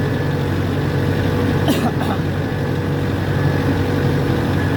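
A tractor engine idles steadily at a moderate distance, a low, even chugging drone with a brief higher rattle partway through and no talk.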